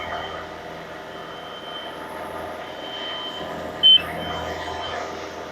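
A 10k telehandler sits on uneven, sloped ground near a trailer, its engine rumbling steadily before a single short, sharp warning beep sounds close by.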